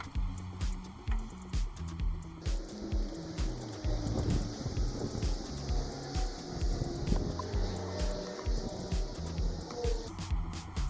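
New engine oil glugs in a rhythmic, pulsing pour into a 2017 Honda City, close and steady.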